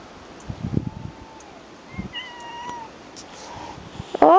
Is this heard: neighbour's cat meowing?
yes